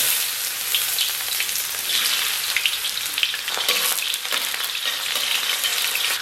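Minced ginger sizzling and frying in hot oil in a wok, a loud, steady crackling hiss with scattered pops throughout, no talking.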